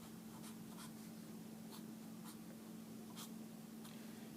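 A pen scratches across paper while drawing, giving faint, brief strokes in an uneven rhythm over a steady low hum and background hiss.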